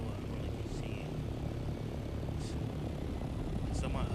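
A helicopter flies in the video game Dune: Awakening, its steady rotor and engine drone a constant low rumble throughout, with brief chirping game sounds over it.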